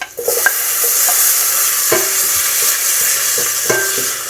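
Onion and tomato sauté in a hot pan for a ginisang patola dish, with a constant loud sizzle and several scraping stirs of a utensil against the pan, close up and with no voices.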